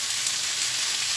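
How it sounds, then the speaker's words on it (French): Vegetables for a homemade ratatouille sizzle loudly and evenly in a little oil while being stirred, a close, dense crackle with no one speaking. "Le peu de huile qui est à l'intérieur, il faut que ça touche tous les légumes. C'est pour ça que je mélange."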